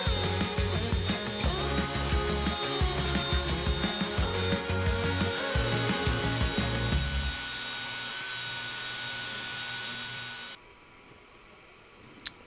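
A wooden cup base hand-sanded with 220-grit paper, with a steady whirring machine drone and a scratchy rasp that fade to near silence toward the end.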